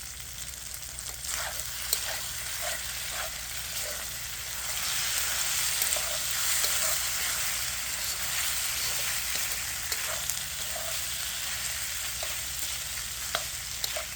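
Pork stir fry sizzles in oil in a pan, a steady moderate hiss with small pops and light clinks of stirring throughout, close and with no one speaking.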